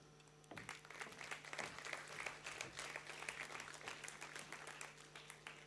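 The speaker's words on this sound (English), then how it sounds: "I'm sure your applause can be much bigger and stronger than that as we continue" Audience applause at a university convocation as graduates are called: many hands clapping at a moderate, fairly distant level, building after a quiet start and continuing steadily over a faint background hum.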